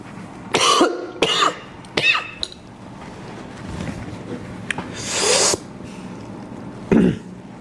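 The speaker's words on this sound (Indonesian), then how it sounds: "salah saya minum matcha jam segini, batuk-batuk jadinya" A woman coughs repeatedly after drinking matcha late in the day, with several short harsh bursts, a longer breathy one and a final cough, loud and close, during a live broadcast.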